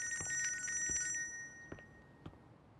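A telephone rings in short repeated bursts, loud and close, then stops; a couple of faint knocks follow in a quiet room.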